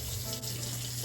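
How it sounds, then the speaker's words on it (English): Cold water runs from a kitchen tap in a steady, close, continuous gush with no voices over it. "you wanna turn on some cold water so you don't burn up your pipes and your plumbing."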